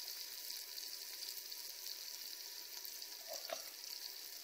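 Spices, garlic, ginger and chillies frying in a pan, with a faint, steady hissing sizzle and a brief stir or clink just past the midpoint.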